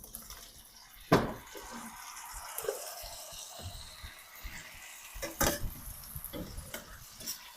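Cut cauliflower dropped into hot oil in a pan for a cauliflower curry, with a loud splash-sizzle at the start, then scraping stirs, clinks and soft crackling frying through the rest, no talk.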